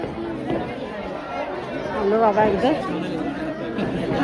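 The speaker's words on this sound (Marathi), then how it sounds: "खूपच गर्दी आहे" A crowd of pilgrims chatters in a long queue at a Ganesh temple such as Lenyadri or Ozar. Many overlapping voices form a steady, close murmur, with nearby talk rising above it.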